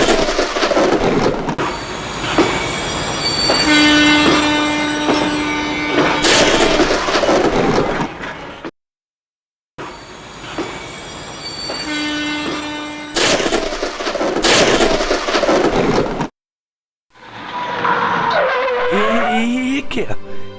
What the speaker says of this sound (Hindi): ट्रेन अचानक रुक क्यों गया?